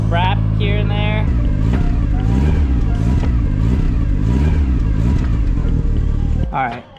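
A Mazda Miata fitted with a quiet custom welded muffler revs in a series of blips over a steady idle, loud and close. Speech-like tones come in at the start and end.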